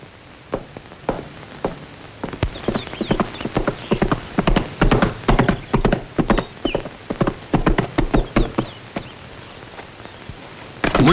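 Horse hooves clip-clop in a steady walking rhythm, close and fairly loud, a continuous run of sharp knocks with a faint whinny-like trace and no talk.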